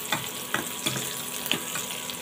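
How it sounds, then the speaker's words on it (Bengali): Onion frying lightly in oil in a pan, a soft steady sizzle broken by several scraping stirs at irregular intervals, close and moderately quiet, with no talk. "তো হালকা করে ভেজে নিলাম।"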